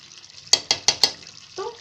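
Garam masala is stirred into chicken curry in a pan, four sharp spoon-against-pan scrapes in quick succession over a low background, followed by a short murmur at the end.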